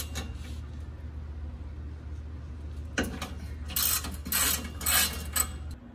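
Ratchet with a 12mm socket loosening exhaust heat shield bolts under a Toyota 4Runner during a TRD exhaust install: bursts of close, clicking ratchet strokes in the second half over a steady low hum, with no talk.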